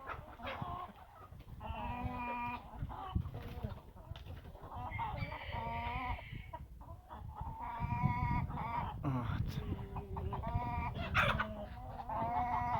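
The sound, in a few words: roosters fighting and clucking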